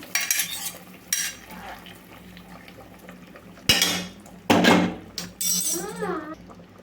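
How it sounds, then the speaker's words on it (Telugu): Cashews and almonds tipped into a pot of coconut-milk undrallu payasam, with close metallic clinks and scrapes of a spoon stirring against the pot in several bursts, without talk. "జీడిపప్పు, బాదం పప్పు ఇవన్నీ అయితే వేసేసుకుందాము."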